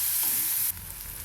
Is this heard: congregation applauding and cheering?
no